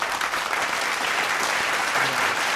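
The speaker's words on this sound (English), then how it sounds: "Round of applause, ladies and gentlemen." Round of applause from an audience, brisk continuous clapping filling the room at a steady level, with a brief low hum near the end.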